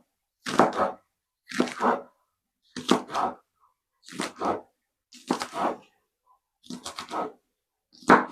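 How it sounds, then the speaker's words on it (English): A run of seven separate soft splashing plops, evenly spaced about a second apart, as vegetables are dropped one by one into a pot of cooking potatoes. "I'm just going to pop these in with the potatoes and let them cook with the potatoes"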